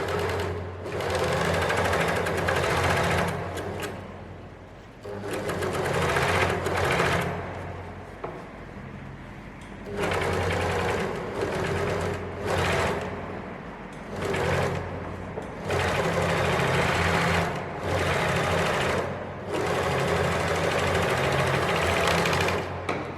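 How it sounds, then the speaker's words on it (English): An overlocker serging the curved centre back seam of beginner elastic-waist pants runs in repeated loud, close bursts of rapid mechanical whirring, separated by short pauses, with no talking. "we're going to jump over to the overlocker, overlock the center backs"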